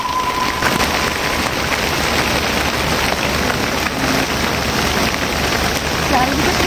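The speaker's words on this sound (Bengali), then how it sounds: "প্রচণ্ড ঝেঁকে বৃষ্টি এসছে" Heavy rain pours down in the Sundarbans, a dense loud hiss of drops beating on surfaces that stays steady throughout.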